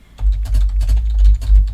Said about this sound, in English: I hope it was good keyboard ASMR